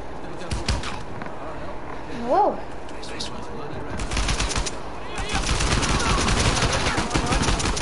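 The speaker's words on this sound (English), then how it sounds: "Many of them shooting." Enemies fire guns in Uncharted 4 around a cathedral: scattered shots at first, then dense, sustained automatic fire building over several seconds, with busy combat noise throughout.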